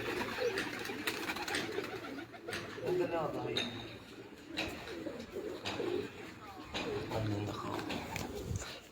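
Domestic pigeons kept by a pigeon fancier coo in soft, repeated low calls amid a busy outdoor background, with people talking throughout.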